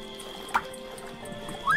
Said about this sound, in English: I got the empty water jug so we can fill it in the puddle